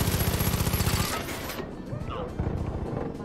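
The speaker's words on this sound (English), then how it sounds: "I'm getting shot from behind." Rapid automatic gunfire in the Far Cry 5 video game rattles in a fast burst for about a second, then a quieter shot sequence and further bursts follow amid game noise.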